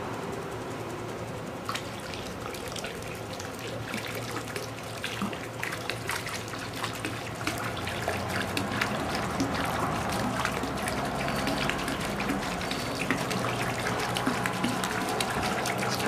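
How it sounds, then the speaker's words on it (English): Thickened liquid pool conditioner glugs slowly from a gallon bottle into a swimming pool, making a continuous close trickle and splatter on the water that grows slightly busier as it goes on. "It's coming out of the bottle slower because it's thickened and suspended."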